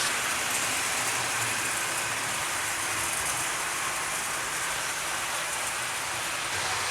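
A steady, faint whirring hiss of Tri-ang model trains running along a track, continuous and even for several seconds with no talking.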